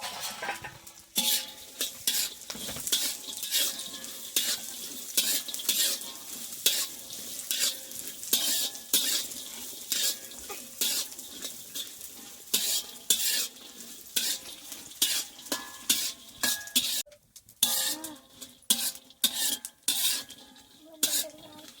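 Spices for black masala roast in oil while a spoon stirs them steadily, making a long run of close, rhythmic scrapes and clinks against the pan over a low sizzle, with a brief pause near the end.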